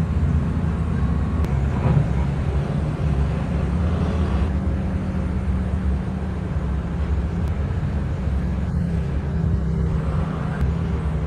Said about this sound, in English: large mining excavator built for open pit work